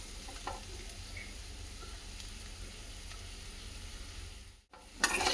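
Cooked rice being stirred into vegetables and masala in a hot pan for chicken fried rice, a continuous soft sizzle with faint scraping, close and steady, ending in a brief clatter.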